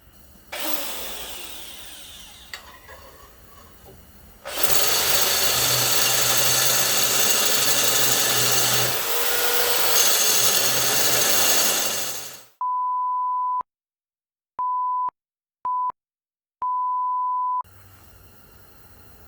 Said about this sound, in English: We're going to try to bore that out with the drill bit.